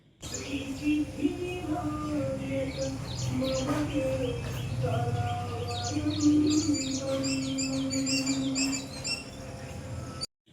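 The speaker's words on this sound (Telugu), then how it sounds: "పక్షులు కిలకిలా అంటుంటే ఏదో ఒక మ్యూజిక్ విన్నట్టే అనిపించింది" Birds chirp in the early morning, with repeated quick tweets and calls from several birds, some close and some farther off, over a low steady background hum.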